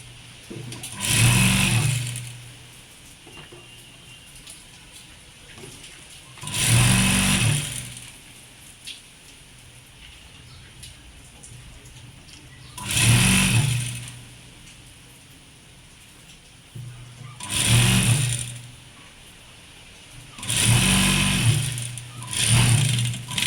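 A sewing machine stitches a lining onto the front panel of a kurti, running in five steady whirring bursts of a few seconds each, separated by quieter pauses with a low background hum, close and moderately loud.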